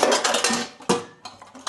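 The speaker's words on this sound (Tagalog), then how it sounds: "Namiss kong maghugas ng plato." Plates, dishes and cutlery clatter and clink together close up during handwashing, a dense burst of ringing knocks followed by a few separate sharp clanks, loud and without talk.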